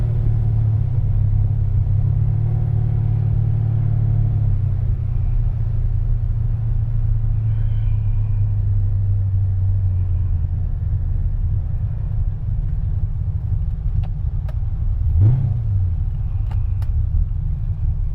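A 1968 Chevelle's V8 rumbles at a loud, steady idle, deep and throbbing, easing slightly in pitch partway through with a brief blip near the end.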